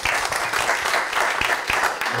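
An audience claps for Timo in a brief, dense, continuous burst of applause with a few sharper claps standing out.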